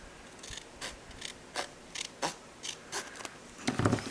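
Scissors snip through a folded paper card in a series of short, crisp cuts, about nine or ten close snips spaced unevenly, with a busier cluster of cutting at the end; no talking.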